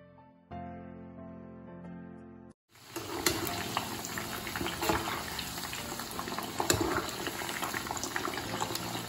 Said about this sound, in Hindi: अब हम इसमें एक एक करके मशरूम डालेंगे और उसको लाइट ब्राउन होने तक फ्राई करेंगे।